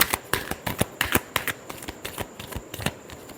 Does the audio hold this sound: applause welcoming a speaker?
no